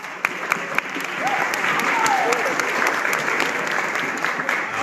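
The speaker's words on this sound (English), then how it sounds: "Give them another round of applause." At a church Christmas musical, the audience breaks into steady applause with a few sharp individual claps standing out, and faint voices and whoops drift through the clapping.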